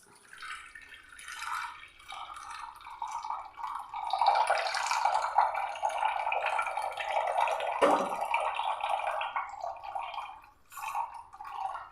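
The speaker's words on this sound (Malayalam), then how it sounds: "നമുക്കിതൊരു ബൗളിലേക്ക് നമുക്കൊന്ന് അരിച്ചങ്ങ് ഒഴിക്കാം" A blended lemon drink, a no-cook cooling summer refresher, is strained and poured into a bowl, giving a steady, close splashing and trickling of liquid that runs for about twelve seconds with no talking.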